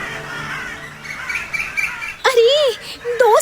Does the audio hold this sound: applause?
no